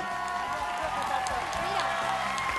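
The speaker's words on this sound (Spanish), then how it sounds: "Un aplauso, por favor" A studio audience on a televised singing competition stage applauds and cheers in a dense, continuous wash of clapping and crowd noise, with a voice carrying over it throughout.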